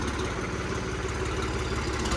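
A farm tractor's engine chugs steadily nearby, a low, even diesel throb with a constant vibrating rhythm and no pauses.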